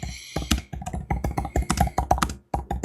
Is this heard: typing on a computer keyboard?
yes